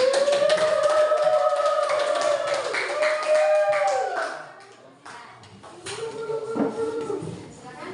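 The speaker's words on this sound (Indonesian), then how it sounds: "Sebelumnya kita kasih aplaus dulu dong buat teman-teman" Students in an Indonesian classroom clap together for their classmates. Scattered, steady hand claps continue throughout under a teacher's voice, then thin out and rise again briefly near the end.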